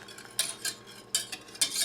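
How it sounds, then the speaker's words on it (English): A spoon stirs cooked rice in a pot off the heat, giving several quick scraping swishes and soft clinks, close and moderately quiet with no talking. "Give it one last little stir."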